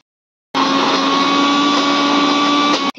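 An electric mixer grinder grinding a paste, switched on abruptly and whirring loudly and steadily for a couple of seconds before cutting off, heard alone up close.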